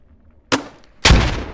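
Grenade launcher shots in the game Squad aimed at sandbag cover, two sharp blasts about half a second apart, the second heavier with a longer rumbling tail.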